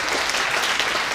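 A convention audience claps steadily, a dense, close burst of applause filling the short moment without pause.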